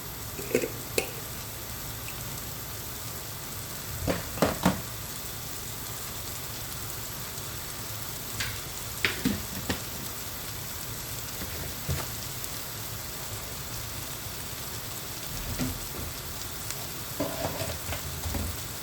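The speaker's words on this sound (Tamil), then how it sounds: "ஸோ கொஞ்ச நேரம் இந்த தக்காளி வதங்கட்டும்." Tomatoes sautéing in a pan over a raised flame for a chicken gravy, giving a steady soft sizzle throughout with occasional louder clicks and scrapes of stirring, no voices.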